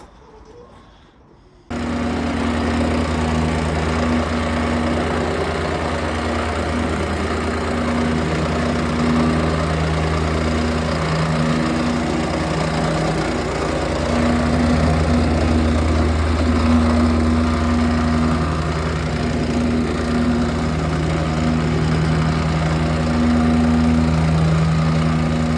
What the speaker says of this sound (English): just give it a little whacker just on the ground